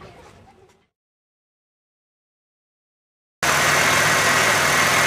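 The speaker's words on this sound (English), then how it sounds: "Now we're going to let the car idle here for about 5 of those 15 minutes, just in park." A car engine turns over after a brief rustle and a pause of silence, then settles into a loud, steady idle in park, close and continuous with no talk.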